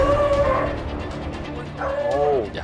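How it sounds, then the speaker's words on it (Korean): A dog barks and yelps loudly in a home, with whining, howl-like cries rising in two bursts amid indoor background noise. "근데 너무 무섭게 짖는다."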